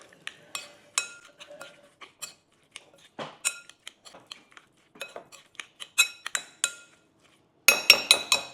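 Mince pie filling stirred together in a bowl: a run of clinks and scrapes of spoon on glass, irregular and close, building to a louder, denser clatter of mixing near the end.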